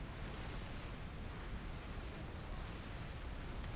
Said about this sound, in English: Wow, so much explosion.